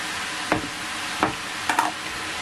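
Zucchini frying in a pan, a soft steady sizzle punctuated by three clattering stirs of a utensil against the pan, close and without talk.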